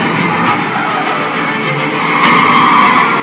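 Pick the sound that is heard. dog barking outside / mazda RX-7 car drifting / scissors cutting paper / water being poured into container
mazda RX-7 car drifting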